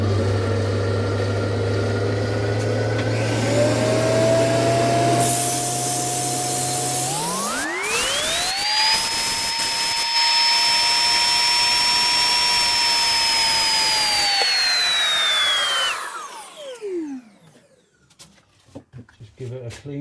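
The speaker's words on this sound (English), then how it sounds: "Give that a sand." A power sander works wild mango epoxy on a Land Rover 90 display piece, a steady whine that rises in pitch, holds high for several seconds, then winds down and stops, leaving quiet handling sounds.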